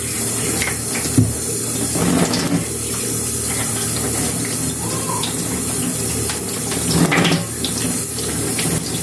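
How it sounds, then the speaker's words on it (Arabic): Running tap water splashing in a kitchen sink as fresh fish are quickly rinsed under it, a continuous close hiss with small clatters and shifts as the fish are handled. "ادي شطفه كده سريعه للسمك"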